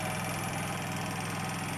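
A generator engine runs on eco throttle while carrying a load, giving a steady, close mechanical drone with no change in pitch and no voices.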